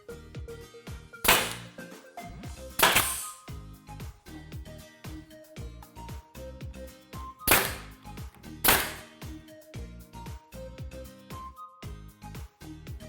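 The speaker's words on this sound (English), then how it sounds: "if you have access to a staple gun, I wanted to show you that option and how quick and easy it can be" Pneumatic staple gun firing staples into wooden fence boards for a rolling lemonade stand: four sharp, loud cracks in two spaced pairs, over a steady run of rhythmic tapping and background noise.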